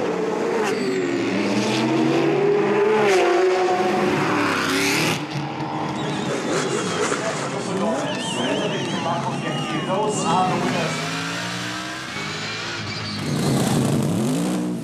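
GT race cars from BMW, Mercedes and Porsche race on the Baku street circuit, their engines revving and rising in pitch as they pass one after another. The loud, layered roars continue with brief lulls between cars.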